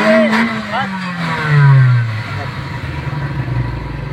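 A 2010 Suzuki Cultus with an HHO kit revs its engine up and back down in one sweep, close and loud, then idles with a rough clatter while people talk nearby.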